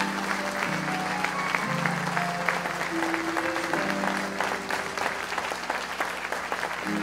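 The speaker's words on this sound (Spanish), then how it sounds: "Denle otro fuerte aplauso al Señor." Church congregation applauding loudly and steadily, a dense wash of clapping with sustained music tones underneath, holding at a constant level throughout.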